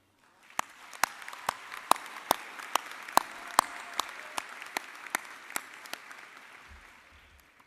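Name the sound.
applause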